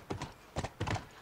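A few quick, muffled hoof thuds in short clusters from a horse in the video game The Last of Us, like stepping or trotting briefly.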